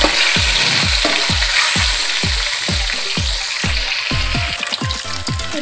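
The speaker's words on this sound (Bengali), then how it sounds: "ডিমগুলো ভাজা হয়ে গেছে" Eggs fry in hot oil with turmeric and salt, giving a steady loud sizzle broken by regular scraping strokes of a spatula, roughly two per second, close to the pan.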